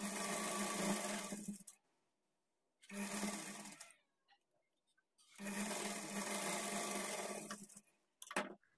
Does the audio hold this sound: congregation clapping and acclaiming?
no